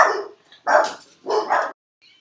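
Dogs on a homestead bark in three loud, separate bursts, a short yelping outburst with brief gaps between, then stop. No one speaks.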